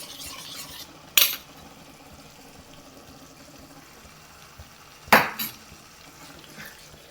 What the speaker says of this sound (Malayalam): ഇനി നമുക്കിതിലേക്ക് ഒരു ടേബിൾ സ്പൂൺ നിറയെ തൈര് എടുത്തിട്ടുണ്ട് അത് ഇതിലേക്കൊന്ന് മിക്സ് ചെയ്ത് കൊടുക്കാം